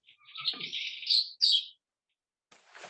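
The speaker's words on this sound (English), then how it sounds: "Sorry about the birds." Birds chirp and tweet outdoors near the open mic of a city finance committee meeting, a busy run of bright high calls followed by silence and a fainter scratchy burst at the end.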